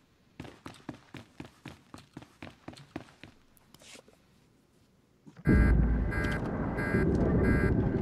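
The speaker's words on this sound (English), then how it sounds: "Every time I hear that alarm" A ship alarm in Star Wars: The Old Republic blares suddenly after rhythmic running footsteps, a loud pulsing electronic buzz repeating in even bursts over a heavy low rumble.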